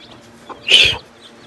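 A single short burst of clucking from a mother hen with chicks rises briefly over a quiet background, near and fairly loud, lasting under half a second.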